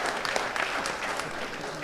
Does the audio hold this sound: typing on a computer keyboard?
no